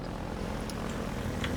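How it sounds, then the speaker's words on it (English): A helicopter in the Half-Life 2 video game: a constant, dense rotor and engine roar that stays steady and loud throughout, with no voices. "We're still chasing the helicopter."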